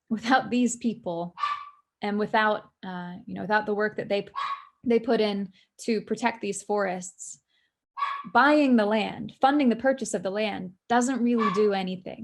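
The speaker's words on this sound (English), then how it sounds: "Sorry about my dog barking in the background." Dog barking in the background of a home setting, repeated yips and barks tucked beneath a continuous stretch of clear speech from a nearby talker.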